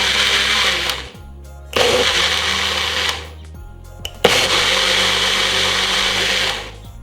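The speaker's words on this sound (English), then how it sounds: "turn on the blender" A blender whirs loudly in three bursts, mixing a watermelon and apple cider vinegar drink, each run stopping abruptly with short pauses between.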